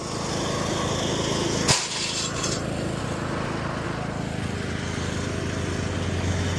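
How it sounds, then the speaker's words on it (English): A tractor engine runs steadily at high revs, a constant loud droning hum with one sharp knock partway through, and no talk. "I'm not going to idle the tractor down because last time I did that, it kind of sputtered getting started."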